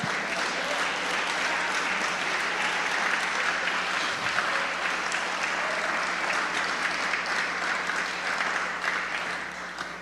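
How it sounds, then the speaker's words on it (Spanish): A church congregation claps together in sustained, steady applause that fills the whole stretch at an even loudness, with no talk standing out above it. "denle un aplauso al Señor"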